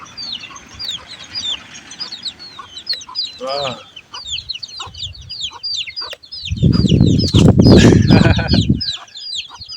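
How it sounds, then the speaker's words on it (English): Chickens cluck and chatter steadily with a rooster calling, birds twittering throughout; a louder burst of squawking flares up near the end, a voice briefly exclaims. "those are chickens"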